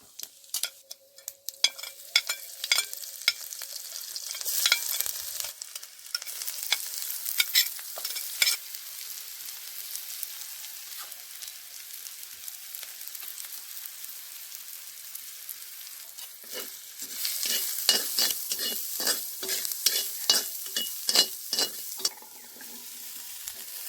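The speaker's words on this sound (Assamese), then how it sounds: "তাৰ পিছত পিয়াজ জলকীয়া এখিলা তেজপাত আৰু নিমখ হালধি দি অলপ সময় ভাজি ল'লোঁ" Onions, green chillies, a bay leaf, salt and turmeric frying in oil, a constant sizzle broken by repeated scraping stirs of a spoon against the pan, louder toward the end.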